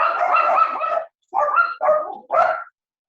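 A dog barks close by in a quick series of four sharp barks, one drawn out and three shorter ones after a brief pause.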